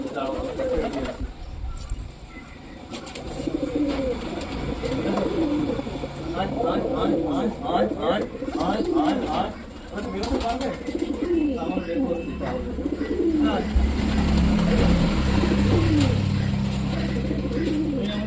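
Domestic pigeons coo repeatedly in a close, steady rhythm just after being let out of their loft, with a person talking over them and a low background rumble building toward the end.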